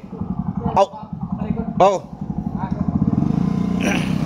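A motorcycle engine idles and revs nearby with a steady chugging rhythm, while a person talks over it.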